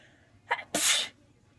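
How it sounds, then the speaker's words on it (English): A single person sneezes: a brief sharp intake of breath, then one loud, explosive burst of breath, close to the mic and followed by quiet. "Sorry, I just sneezed."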